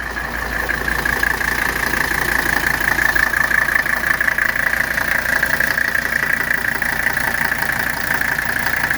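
A 1983 Mercedes 300CD diesel engine idles steadily just after a cold start, a loud, close, continuous rattling clatter with no voices.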